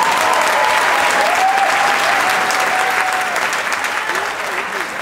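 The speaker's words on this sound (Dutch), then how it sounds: "ik vraag toch wel aan jullie toch wel een overdovend applaus" Loud, sustained applause from a large audience at a drag pageant fills the space, slowly easing off toward the end, with a faint tone running underneath.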